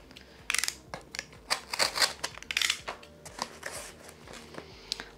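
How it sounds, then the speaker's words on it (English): Tape peeled off a plant mail package from an Etsy order, heard as a series of close, crackly rips and crinkles in irregular bursts, with no talking. "So I'm just peeling off tape."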